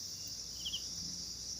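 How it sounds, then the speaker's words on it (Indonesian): Crickets chirp steadily in a forest at night around a hut in a garden, a continuous high trill that fills the quiet scene, with a faint low murmur beneath and no speech. "Di sini hanya suara jangkrik."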